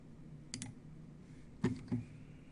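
Computer mouse clicks while working in COMSOL 4.2 software, a handful of sharp, close, quiet clicks in two pairs with a single click at the end, against faint room hum and no talk.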